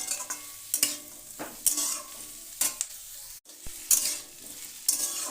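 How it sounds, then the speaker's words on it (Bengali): Bitter gourd and potatoes frying together in a pan, with repeated scraping strokes of a spatula at an uneven rhythm over a steady soft sizzle, close by with no voices. "তিন 4 মিনিট ভেজে নিলাম উচ্ছে আলু একসাথে দিয়ে"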